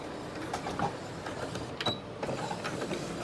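A sewing machine stitches a fabric messenger-style market bag close to its bottom edge, a soft, busy mechanical whirring with small clicks, running steadily and then going back and forth, with no talk.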